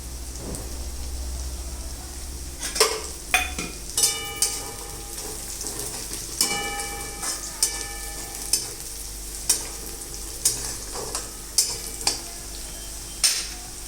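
Green garlic and chopped onion frying in a pan, a soft steady sizzle broken by a regular series of spatula scrapes and clacks against the pan, close and with no one talking.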